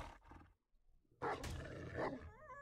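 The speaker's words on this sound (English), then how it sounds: "That's a coyote." In the video game 7 Days To Die, a coyote lets out a rough, loud roaring howl after a brief quieter growl, the call sounding close and harsh with no talking over it.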